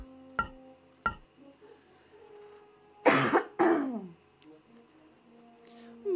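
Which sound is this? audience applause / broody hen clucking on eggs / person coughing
person coughing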